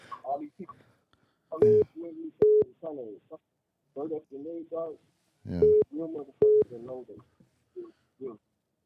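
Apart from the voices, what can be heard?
telephone line ringing tone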